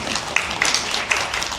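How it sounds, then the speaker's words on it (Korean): An audience applauds to welcome a speaker at a National Assembly debate on agricultural policy, a brief burst of dense, steady clapping that fills the room with no voices over it. "박수로 맞이해 주시죠"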